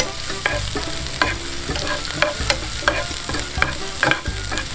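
Pounded ingredients stir-fried in hot oil for a Thai basil stir-fry with fried egg, a steady sizzle broken by repeated sharp scrapes and knocks of a spatula against the pan, close and continuous with no talking.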